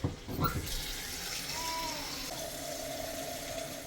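Water runs steadily from a kitchen tap into a container of cut pumpkin pieces, a continuous close splashing rush that deepens slightly in pitch as the container fills.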